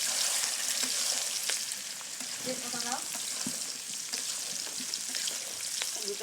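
Chopped onions hit a pan where chicken is frying, giving a steady sizzling hiss with scattered crackles and a brief stirring scrape, all fairly quiet and close.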